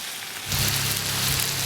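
Spicy beef tripe hits a hot wok and starts to stir-fry. After a quiet moment, a sudden loud, steady sizzle with hissing crackle begins and keeps going.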